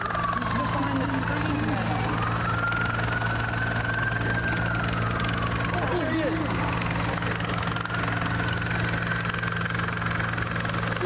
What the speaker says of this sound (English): Not me hearing a helicopter here at my house while watching this.